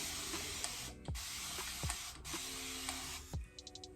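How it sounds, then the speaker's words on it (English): A continuous-mist spray bottle spraying water on curly hair in long hissing bursts, three in a row, each ending with a short squeak, followed by quick clicks. "I love this water bottle because it's like a continuous mist"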